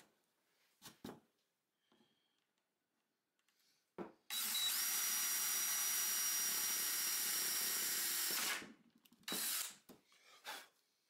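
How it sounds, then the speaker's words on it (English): A power drill whirs loudly and steadily for about four seconds, bracketed by short bursts and clicks of handling before and after. "I'm pre-drilling two quarter inch holes"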